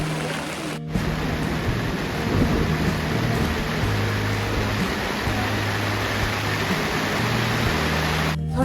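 Heavy rain pours steadily on a Himalayan mountain trek to Kedarnath, a dense continuous roar with low thunder rumbling beneath it and a sharp crackle at start and end.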